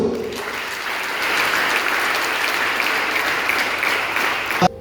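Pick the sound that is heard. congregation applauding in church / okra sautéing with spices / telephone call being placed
congregation applauding in church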